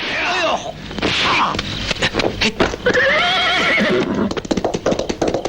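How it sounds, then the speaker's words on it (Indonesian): A horse whinnies loudly and close, its neighs rising and falling over the clip, with hoof clip-clop and a few sharp bangs in the background, set in a Wild West-style American scene. "Mendengar suara kuda, Hans yang baru mau anuan terpaksa menundany"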